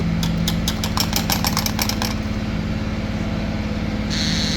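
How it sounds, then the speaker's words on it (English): A Honda 400EX ATV engine cranks over after its starter solenoid terminals are bridged, a steady mechanical churn with a rapid ticking rhythm for about two seconds, then a continuous running drone and a brief hiss near the end. "if you just cross them over like this, it's already turning over"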